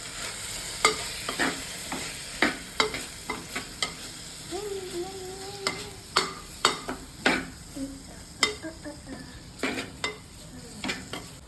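Turmeric and chilli powder are stirred into frying masala in a pan, with repeated sharp spoon scrapes and clinks at an uneven rhythm over a soft, continuous sizzle, close by.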